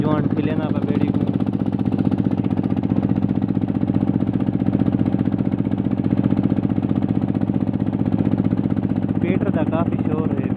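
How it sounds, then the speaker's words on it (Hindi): A Petter engine on a river boat runs with a loud, steady, throbbing chug, while voices talk over it. "पेटर का काफ़ी शोर है भैया"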